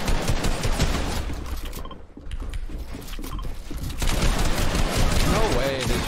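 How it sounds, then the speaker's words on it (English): Gunfire in a Fortnite match, rapid bursts of shots with mechanical clicks and rattles, loud and dense, fading briefly then returning, with players talking over it. "No way they shot me through that wall."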